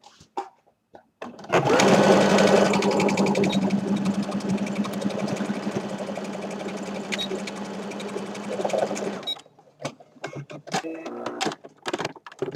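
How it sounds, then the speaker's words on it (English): An embroidery sewing machine runs steadily for about eight seconds, a loud continuous mechanical whir with a fast needle rhythm, starting and stopping abruptly, with quiet handling noises before and after. "This is actually an embroidery sewing machine."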